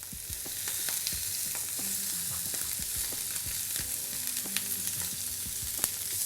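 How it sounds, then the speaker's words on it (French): Lamb sweetbreads crackle and sizzle steadily in hot oil in a pan, a dense, even frying hiss with scattered sharper pops, close and loud throughout. "l'huile chante. Donc on dépose nos noix de riz d'agneau."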